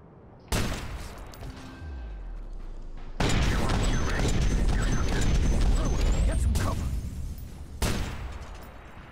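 Gunfire and crashing impacts in Watch Dogs Bad Blood, with sharp loud onsets at the start, a sustained dense barrage in the middle and another sharp burst near the end, over a steady game background.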